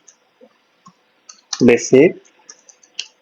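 Computer keyboard keys are tapped while typing in an Excel spreadsheet, with sparse, close, crisp clicks spaced through the clip and a short spoken word in the middle.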